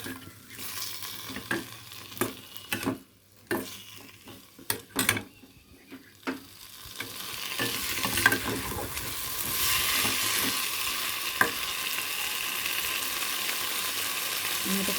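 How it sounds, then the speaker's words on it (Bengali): A whole tomato is stirred and sautéed in a hot pan with frying spices, the spoon scraping in irregular strokes at first and then giving way to a steady, fairly loud sizzle. No one speaks. "এর মধ্যে দিয়ে দিলাম একটা গোটা টমেটো। এবার ভালো করে আমি এটাকে কষতে থাকবো।"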